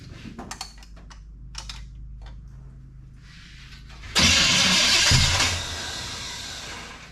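A 1974 Pontiac Ventura engine cranks under light tapping and clicking, then catches with a sudden loud roar at about four seconds, revving hard before settling into a steady, slightly lower running note.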